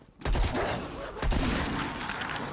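Rapid gunfire from a console zombie-shooter game, players aiming for headshots on the undead: dense, loud overlapping shots that burst in, pause briefly near the middle, then roar on steadily.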